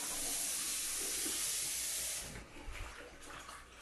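Hissing rush of cold running water washing romaine lettuce for about two seconds, then it stops, leaving faint splashing and handling sounds close by.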